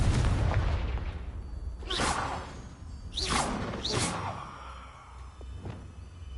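The Confringo fire spell cast in Hogwarts Legacy, heard as several quick fiery whooshes with low booming bursts in a rough sequence over a constant game background rumble, with no talking.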